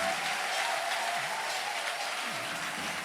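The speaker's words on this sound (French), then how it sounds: "Maintenant, tu peux acclamer fortement dans ses oreilles." A church congregation cheers and applauds loudly at a service led by Pierre Kitoko Makasi with Pastor Walesa. The dense clapping runs steadily throughout, with a few voices rising over it.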